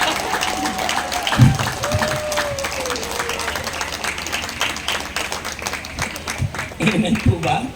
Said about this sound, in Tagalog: Ganyan po talagang pumalakpak ang mga senior.